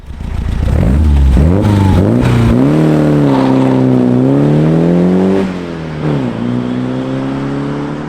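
A 1973 BMW 2002 Touring engine revs up steadily and holds a loud, climbing drone while the car drives off. The note dips and eases briefly near the end.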